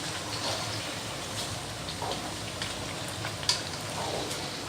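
Meat and green chillies sizzle and fry in a pan while being stirred for Peshawari namkeen gosht, a steady moderate crackle with occasional scrapes and no talking.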